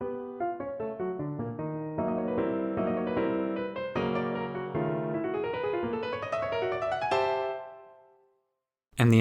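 Solo piano plays the consequent of a phrase from Bartók's Bagatelle No. 2, a rising line of sustained chords that swells and fades, then a brief pause before a final attack.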